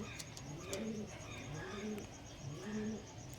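Domestic pigeons kept by a fancier coo softly and close by, three rounded, rhythmic coos over a quiet background.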